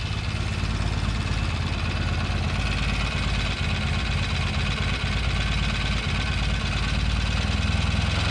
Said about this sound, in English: Now I'm going to adjust the pilot air mixture in and out for best RPM.